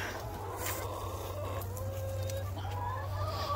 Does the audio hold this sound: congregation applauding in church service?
no